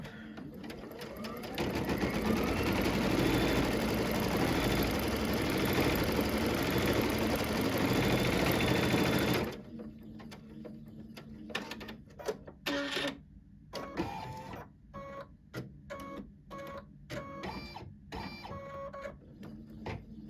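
Embroidery sewing machine stitching a small X pattern onto hooped fabric, a dense steady mechanical whir for about nine seconds, then stopping into quieter clicks and shuffling handling noises with no talk.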